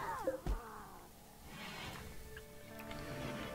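Cats meowing in the video game RimWorld, a drawn-out wavering meow at the start followed by quieter whiny calls over a faint steady background hum.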